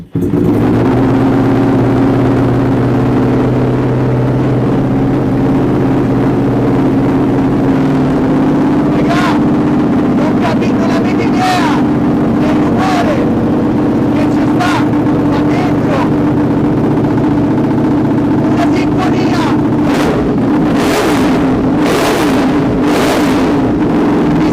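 A tuned motorcycle runs on a dyno bench with its tank refilled and components reassembled but no map loaded, giving a steady, loud engine drone with sharp mechanical clicks and bursts scattered throughout.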